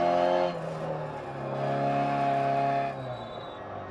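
A rally car's engine in Dirt Rally holds a steady, loud drone through a Clubsman event, rising in pitch and then dropping toward the end, with gravelly road noise underneath and no talking.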